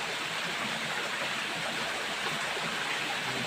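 An underground river rushes steadily through a deep cave, a constant broad wash of flowing water filling the space with no pauses or voices.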